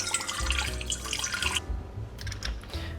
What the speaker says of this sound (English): In our mixing bowl, I'm going to add 255 grams of warm water.